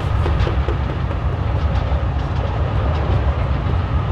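A moving train in the video game Forgotton Anne, heard as a steady low rumble with a faint rhythmic rattle that runs without a break and stays fairly close and even throughout.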